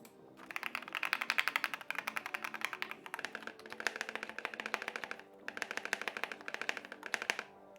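Rapid typing on a wireless mechanical keyboard built from a kit, a close, crisp clatter of keystrokes in fast bursts separated by short pauses.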